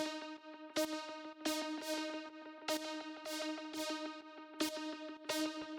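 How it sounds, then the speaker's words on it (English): A synth lead made in the Analog synthesizer plays a bright plucky tech house line of repeated sharp notes with a rhythmic, sustained tonal body, heard alone. "The next sound I have here is this little lead I made in analog"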